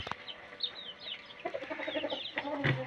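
Chickens cluck and chirp in short, irregular calls at feeding time on a small farm where ducks are also kept, the birds fairly close and busy with no one speaking.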